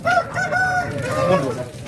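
A rooster crows loudly and close by at a poultry market, one drawn-out wavering call lasting nearly two seconds, with other fowl faintly in the background.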